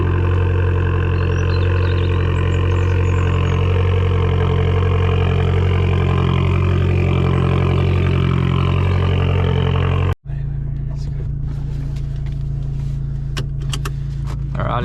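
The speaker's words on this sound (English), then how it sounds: "It is very loud on the cold start, that initial period where it's got like the high revs" An Abarth 595 engine idles loudly at high revs during a cold-start warm-up, a steady close drone that cuts off abruptly partway through and gives way to quieter rumbling with faint clicks and rattles.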